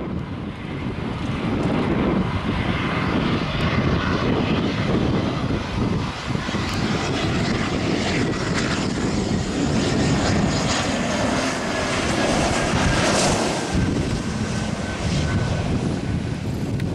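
Aircraft engines roar continuously at Salvador airport during takeoffs and landings, a loud sustained drone with shifting pitch and wind buffeting, no voices over it.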